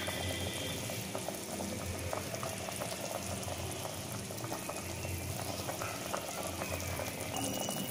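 Chettinad brinjal curry bubbles and simmers steadily in a pot, a dense continuous popping and gurgling at close range, with no voices.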